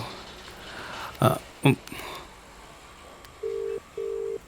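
Two quick electronic key beeps sound, followed after a pause by two longer, steady phone tones over a quiet room.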